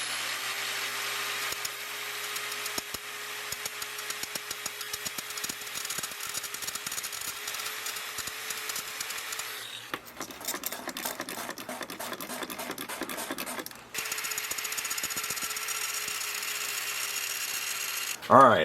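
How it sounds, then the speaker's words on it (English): Grinder working on a metal lathe, a steady motor whine with a hum, broken midway by a harsher rasping stretch before the whine returns, all close by. "I generally try to avoid grinding on my lathe, but I've got everything covered with cardboard."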